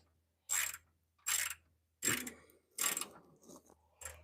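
Four crisp, clicking bursts from a ratchet wrench working a bolt on the steering rack of a 1996 NA Mazda Miata, each a quick close ratcheting rattle separated by short pauses, followed by a softer final click.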